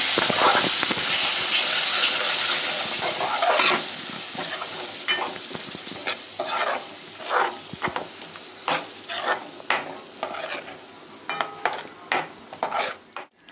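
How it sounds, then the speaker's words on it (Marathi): Ground spice paste stir-fried in oil in a pan for rajma, a steady sizzle with a spoon scraping and stirring in rhythmic strokes that grow more distinct toward the end. "आता मी जे वाटण बनवलं होतं ते याच्यामध्ये मी ऍड करते। वाटण सुद्धा असं परतून घेऊया।"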